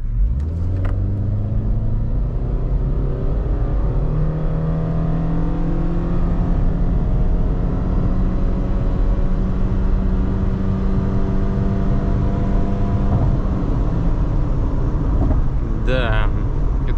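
A non-turbo Subaru Forester SJ5 revving hard while accelerating in sport mode, a loud continuous engine drone climbing steadily in pitch across the run, heard from inside the cabin with no other sounds over it.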